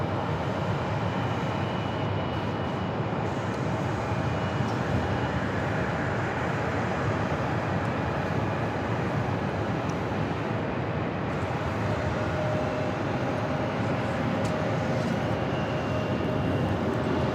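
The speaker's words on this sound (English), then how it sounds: "Oh, we just landed. Just touched down." A United airliner touching down at Phoenix Sky Harbor airport, a dense continuous rumble and roar of engines and rollout, loud and unbroken with no talking.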